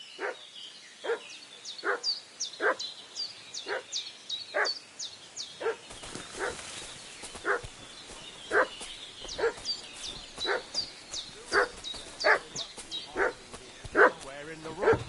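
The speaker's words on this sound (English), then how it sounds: "What's that dog making such a fuss about?" A dog in the video game Kingdom Come: Deliverance II barks repeatedly in a steady rhythm, about one bark per second, loud and near, joined partway through by a layer of background ambience and sharper high clicks.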